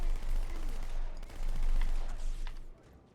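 Dual submachine guns in Halo 2 fire in rapid sustained bursts for nearly three seconds, a dense rattling roar of gunfire that fades near the end.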